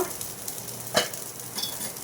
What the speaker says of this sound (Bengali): কাঠের খুন্তি আর অ্যালুমিনিয়ামের কড়াই সরসর করে সরে সরে যাচ্ছে সুন্দর ভাজা ভাজা হয়ে যাচ্ছে ফুলটা